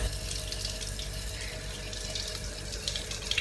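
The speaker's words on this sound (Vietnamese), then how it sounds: "Muốn ăn ngon thì mình rửa sạch nha, rửa sạch lấy hết cát ra." Razor clams are washed under a running kitchen tap to rinse out sand, giving a steady, close splashing flow of water with small clinks near the end and no talking.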